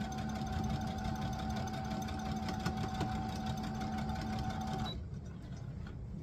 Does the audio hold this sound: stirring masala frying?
no